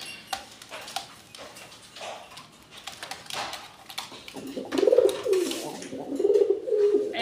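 Fancy pigeons coo in soft, repeated rolling calls close by, against a busy background of scattered bird noise and faint bumps.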